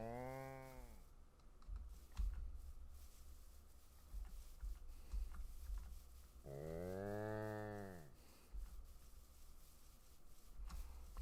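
Two drawn-out cow moos from the Minecraft Pixelmon video game, the first brief at the start and a longer, louder one later, over a low steady game background hum with no talking.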